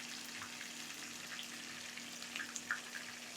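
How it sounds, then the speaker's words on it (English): Vegetables for fried rice sizzle steadily in a hot pan, a constant crackling hiss with a few sharper pops, close and fairly quiet, with no talking. "we'll start frying our vegetables for the fried rice"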